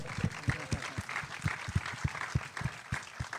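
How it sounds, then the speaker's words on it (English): Scattered audience applause at a film Q&A for the producer, fairly quiet and thin, with individual claps standing out in an uneven rhythm. "if we can give her a round of applause"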